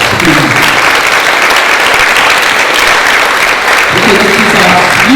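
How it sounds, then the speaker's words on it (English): An audience bursts into loud, sustained applause for a 14-year-old girl at a gathering, dense clapping filling the whole stretch with no let-up. "Give her a big round of applause."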